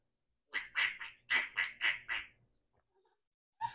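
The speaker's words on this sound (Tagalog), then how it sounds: "What the heck was that? Is that a duck?" A duck quacks in a quick run of five or six loud, nasal calls close by, then goes quiet before another call starts at the end; no talk over it.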